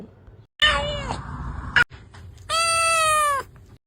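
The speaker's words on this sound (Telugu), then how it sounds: "పిల్లి వంద కంటే ఎక్కువ రకాల శబ్దాలు చేయగలవు" Two distinct cat meows, close and clear: a drawn-out cry, a brief pause, then a second higher, strained meow.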